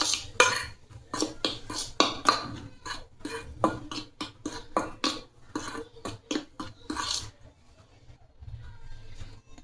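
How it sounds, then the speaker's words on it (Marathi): Wheat flour and a quarter spoon of baking soda are mixed in a bowl for a carrot cake, giving repeated clinking and scraping strokes of a utensil against the bowl before the sound fades near the end. "त्यामध्ये पाव चमचा खाण्याचा सोडा टाकू। हे व्यवस्थित मिक्स करून घेऊ आपण।"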